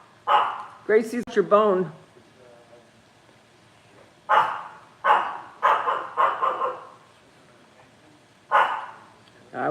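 A dog barks in several sharp bursts, some in quick runs, with a person speaking briefly between them.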